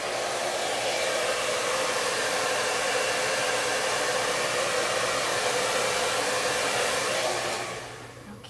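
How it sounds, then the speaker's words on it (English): A hair dryer blows with a steady, loud whoosh, then winds down and fades at the end. "Reaching to get my hairdryer, sorry."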